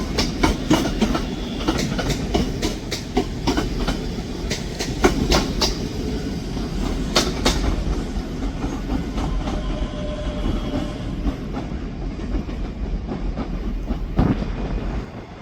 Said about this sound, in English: Departing out now is the 1341 Scotrail service, starting here at Edinburgh Waverley to North Berwick